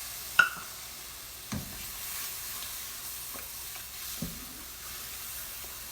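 Milk poured into a golden roux in a pan for giblet gravy, giving a soft steady sizzle with a few sharp spoon clinks against the pan, fairly quiet and close, no voices.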